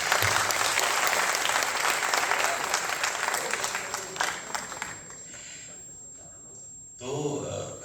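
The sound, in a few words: audience applause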